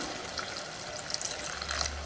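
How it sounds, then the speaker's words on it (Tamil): Water runs steadily into a pot of ridge gourd sambar (peerkangai) for about two seconds, a thin, continuous splashing pour with no talking. "நம்ம ரொம்ப தண்ணி ஊற்ற வேணாம்"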